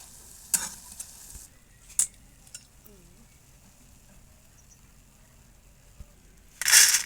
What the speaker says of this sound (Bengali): এবার এই বোঁদেগুলো ভাজা হয়ে গেছে, আমি একটা ঝাঁঝরি দিয়ে বোঁদেগুলো উঠে নেব।